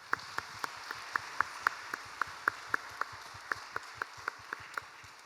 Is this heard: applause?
yes